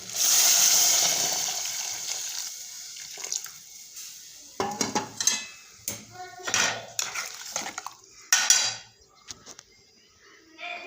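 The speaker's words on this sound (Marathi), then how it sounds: "हे पहा गरम पाणी टाकून" Hot water poured into a pot of spicy Vidarbha-style jackfruit curry, a steady pouring rush for about three seconds, followed by close metallic clinks and scrapes of a spoon against the pot.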